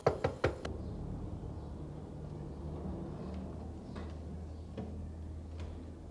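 Three quick, sharp knocks on a door sound at the very start, then fade into a steady low indoor hum with faint scattered ticks.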